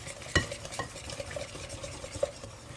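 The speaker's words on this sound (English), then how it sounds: "you just kind of want to whisk that together" A whisk stirs a yeast mixture for pizza dough in a bowl, making soft, intermittent clinks and swishes, with a couple of sharper taps standing out over a quiet background.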